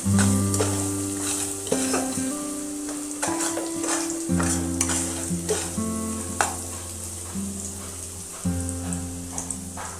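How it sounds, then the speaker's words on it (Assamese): Masala spices for an Assamese egg curry fry steadily in hot oil in a pan, giving a loud, continuous sizzle with crackles and occasional stirring scrapes all the way through. "এয়া চাওক, মছলাখিনি ভজা ভজা হৈ গৈছে আৰু তেলখিনি কেনেকৈ ওলাইছে।"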